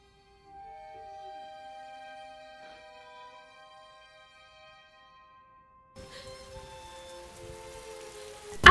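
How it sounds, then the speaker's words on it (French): Rain falls steadily in The Princess and the Frog animated film, a soft broadband patter that begins abruptly after a quiet musical passage and continues at moderate volume. "il y a 2 secondes, le ciel était dégagé, maintenant il pleut"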